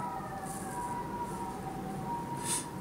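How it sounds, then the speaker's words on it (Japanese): An emergency siren drifts in from a distance, its steady wailing tone faint beneath a quiet background during an air pistol holding practice session. "おっとサイレンが"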